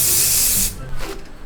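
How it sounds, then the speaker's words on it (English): Hair spray misted over freshly curled hair in one loud, steady hiss lasting over half a second, then a stop followed by faint soft rustling close by. "I'm gonna spray it and then I'm gonna do a quick brush through"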